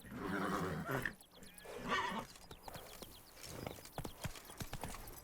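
Roach the horse in The Witcher 3, neighing in loud whinnies early on, then hooves thudding in an irregular run of clip-clops, fairly faint overall.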